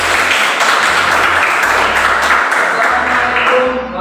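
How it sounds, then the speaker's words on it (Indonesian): An audience at a school academic supervision and coaching event claps continuously for about four seconds, a dense, loud patter of many hands with no voices over it. "Tepuk tangan untuk kita semuanya."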